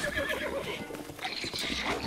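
A horse neighs and whinnies in the Zelda Breath of the Wild video game, a loud in-game call heard alongside hoof clip-clops.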